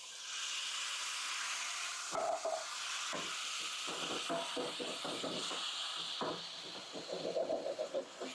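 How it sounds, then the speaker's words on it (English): A utensil scraping the bottom of a hot pan as liquid from canned diced tomatoes deglazes it, giving hissing and sizzling with intermittent scraping strokes, close by and fairly quiet. "I'm using the liquid to scrape the bottom of the pan."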